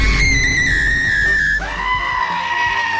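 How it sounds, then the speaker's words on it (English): A cartoonish high-pitched scream from a character in the Roblox Brookhaven game, sustained and loud, dropping in pitch midway and then continuing in a lower, wavering tone. "Why do you scream?"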